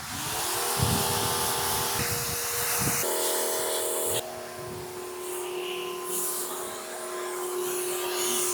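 Water spray rinsing a car during a touchless detailing job, a continuous close hiss of pressurized water that shifts in tone as the nozzle moves across panels, with no talk heard.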